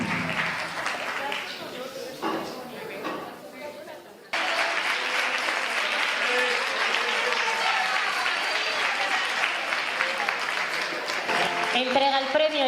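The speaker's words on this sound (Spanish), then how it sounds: "Un aplauso y si alguno quiere decir algo," Audience applause at a municipal gala in Jarandilla de la Vera, Spain: clapping starts under a voice, then swells into a loud, steady round from a full hall that carries on to the end.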